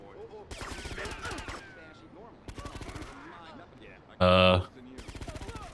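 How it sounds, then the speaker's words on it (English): Shotgun blasts and rapid gunfire ring out in the video game Shine O' Vice, coming in sharp repeated bursts with one loud booming shot standing out, while players talk over the action. "Who had the shotgun?"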